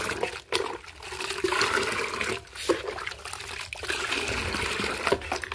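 Water with Epsom salt is poured and stirred in a bucket to make a plant fertilizer, about two spoons to five litres. It sounds like a close, continuous splashing trickle with a few brief dips and surges.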